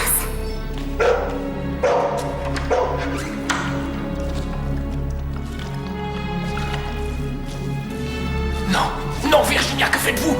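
A mistreated puppy barks in short, sharp yelps spaced several times across a busy, reverberant background with low rumbling and watery dripping sounds.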